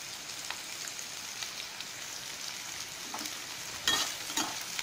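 Onions and green chilies sautéing in a pan for ragi adai, a soft continuous sizzle with scattered crackles and a few louder stirring scrapes toward the end.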